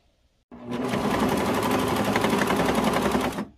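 A sewing machine stitches belt loops onto a skirt made from a thrifted curtain panel, running in one steady rapid whirring burst for about three seconds, close and loud, then stopping.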